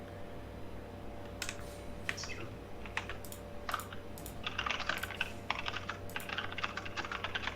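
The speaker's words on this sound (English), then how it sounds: "I don't know if you're typing notes or not" Keys clatter on a computer keyboard in quick irregular bursts, close and crisp, over a steady electrical hum during a gaming session.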